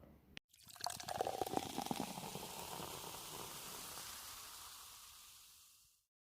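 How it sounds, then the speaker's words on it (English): A drink is poured into a glass, opening with a sharp click, then a continuous splashing trickle of liquid that fades as the glass fills and stops. "I'll pour you another."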